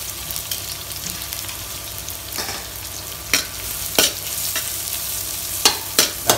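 Onions and green chillies frying in a pan for chicken fried rice: a constant close sizzle broken by sharp clacks and scrapes of a spatula stirring against the pan.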